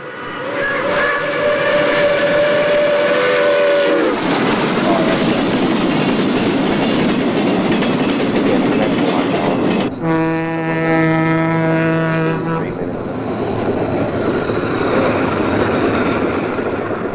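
Old film footage of New York Central passenger trains, including the Pacemaker, the Advanced Commodore Vanderbilt and the Chicagoan, rumbling steadily past with loud steam whistle blasts at the start and again midway.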